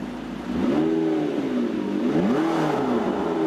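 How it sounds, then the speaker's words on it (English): A car engine idling in neutral is revved twice, each blip rising and falling in pitch above a steady idle, close and loud. "you can hit the gas and rev it a little bit if you want"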